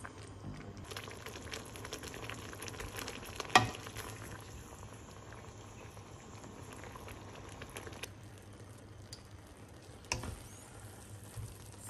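Canton noodles stir-fry in a pan for sotanghon guisado, a low bubbling sizzle that stays fairly faint, with a few sharper clicks and scrapes from stirring.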